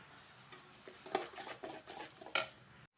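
A paste of ginger, garlic and green chilli is stirred in a pan, giving a quiet scrape and clink of a utensil with a faint sizzle, in several soft strokes and one sharper knock near the end.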